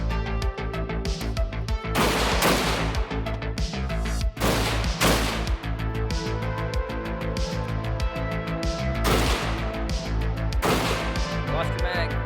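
Mini Beryl 556 rifle, a custom-upgraded chopper build, firing in a game: heavy bursts of sharp gunshots repeat every couple of seconds over a constant loud backdrop, with voices talking throughout.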